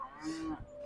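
A Jersey calf at a cattle and bull market moos once, a short, fairly faint bleat under about a second long, set against the market's background noise.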